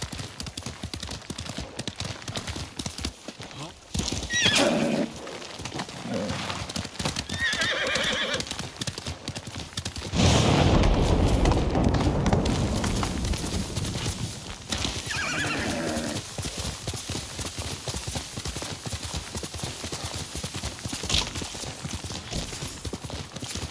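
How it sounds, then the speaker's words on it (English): Video game hooves clip-clop steadily at a gallop in Ghost of Tsushima while a horse whinnies loudly a couple of times, with a big surge of hoofbeats and noise midway. "You're a good horse, Noble."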